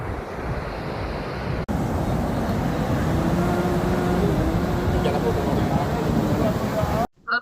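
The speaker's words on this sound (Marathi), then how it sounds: "हे बघा मोरॉमजी बीच" Ocean waves at Morjim beach, Goa, during the rainy season with rough sea conditions; a steady, loud roar of surf fills the whole stretch, with wind buffeting the microphone and a brief dropout near the end.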